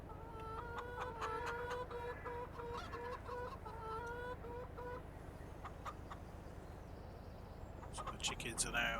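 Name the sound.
chickens clucking in Farming Simulator video game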